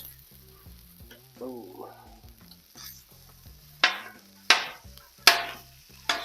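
Sausage cooking on a breakfast griddle gives a low sizzle with scraping and spatula chops, several sharp metallic clanks standing out toward the end, plus a brief spoken word early on.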